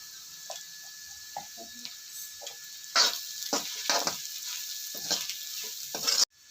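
Crushed black pepper dropped into hot oil sets off a continuous bright sizzle, with scattered clicks and stirring scrapes on top that grow busier partway through, then the sound cuts off abruptly; no voices.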